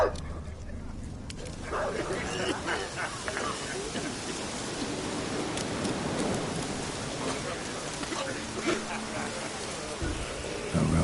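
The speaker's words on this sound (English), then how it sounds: "Looked like it would rain, and here it is." Rain falling in a video game, a steady hiss of drops on surfaces that continues throughout, with a voice speaking over it and occasional sharper sounds breaking through.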